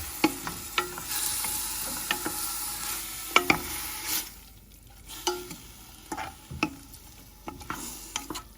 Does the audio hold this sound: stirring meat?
yes